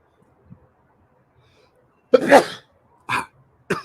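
A single loud, close sneeze bursts out after a quiet stretch, followed by two shorter sharp nasal sniffs or exhalations in quick succession.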